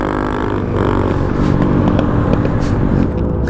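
A Honda CRF dirt bike engine runs loud and close for the whole stretch, a steady rough motor drone with some scraping clatter as the bike comes to a stop.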